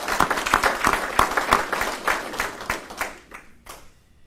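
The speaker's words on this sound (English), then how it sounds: "how about a round of applause for Mr." Audience applause at a US Army promotion ceremony, steady clapping from a room of people that holds for about three seconds and then thins out into scattered claps before fading.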